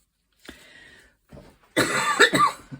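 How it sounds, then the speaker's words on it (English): A few rough coughs close up from someone recovering from a chest infection: a quieter cough or two, then a louder burst of harsh coughing and throat clearing. "Excuse my coughing, I am getting over a chest infection"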